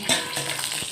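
Pointed gourd (potol) slices fry in oil in a covered pan, giving a brief, steady crackling sizzle up close with a few sharper pops and no voices.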